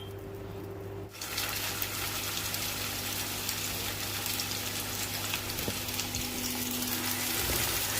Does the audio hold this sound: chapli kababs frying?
yes